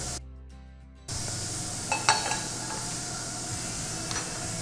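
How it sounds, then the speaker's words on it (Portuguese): Bread searing in a hot frying pan for a Texas-style sandwich: after a brief musical sting, a steady close hiss of sizzling fills the pan, with a couple of light scrape and clink accents and no voices. "dar uma douradinha nesse pão, que o objetivo na verdade não é o dourado, mas sim o selar"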